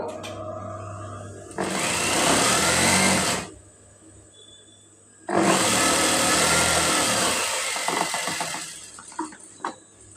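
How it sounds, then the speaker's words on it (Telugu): A sewing machine stitches a thin seam along folded fabric strips for hanging decorations, running in two loud, steady bursts separated by a short pause, with faint handling noises at the end. "ఈ విధంగా ఫోల్డింగ్ చేసి సన్నగా స్టిచ్ వేస్తున్నాను"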